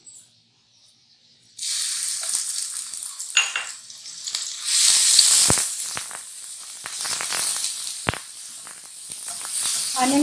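Onions sautéing in a tablespoon of hot oil: a loud, steady hiss and crackle of frying begins abruptly after a quiet start, with scattered scrapes and clicks of a utensil against the pan throughout.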